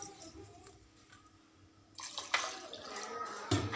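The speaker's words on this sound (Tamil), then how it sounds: "இப்போ குழம்புக்கு தேவையான அளவு தண்ணி ஊற்றிக்கோங்க." Water is poured into a pan of garlic tamarind curry, with quiet kitchen sounds giving way to splashing bursts in the second half, faint and close.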